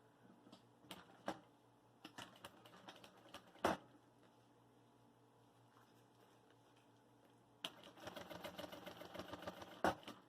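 A sewing machine stitching the side of a thermal cool bag in short bursts, with scattered taps and pauses and then a longer, denser run of rapid stitching near the end, close and fairly faint, with no talking.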